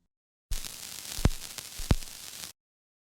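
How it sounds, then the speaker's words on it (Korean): Static crackle from a vacuum-tube shortwave radio warming up on heavy batteries, a steady hiss with two sharp pops, lasting about two seconds before cutting off. "축전지가 뜨거워지며 진공관이 열을 받자 치지직거리는 소리가 들렸습니다"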